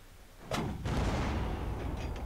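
A German anti-tank gun fires once in the WW2 mod of Unturned, a sharp close blast followed by a heavy rumbling boom and a lingering low tail.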